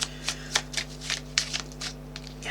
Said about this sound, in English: I'm just going to shuffle the Luminous Pathways deck